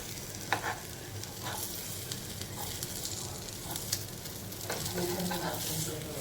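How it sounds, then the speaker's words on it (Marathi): Stuffed okra (bhindi) coated in green masala paste roasting in oil in a pan, a soft continuous sizzle with occasional stirring scrapes, fairly quiet and close, with no talking. "आता जसं आपण वरून भाजून घेतलं तसं खालूनही व्यवस्थित भाजून घ्यायचं."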